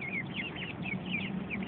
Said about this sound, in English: Uh-oh, chicken fight. Chicken fight, chicken fight.